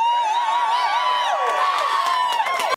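A rowdy crowd of exhausted supporters at Senator Jon Tester's victory rally cheers loudly, with high whoops and shouts layered over sustained crowd noise, cutting off abruptly at the end.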